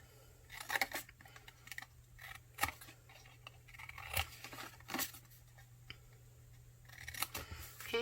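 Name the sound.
scissors cutting paper up to a score line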